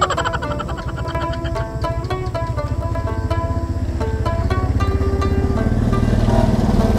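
A motorcycle engine runs close and loud, putting out a steady rapid chugging idle that holds for several seconds, with no talking over it.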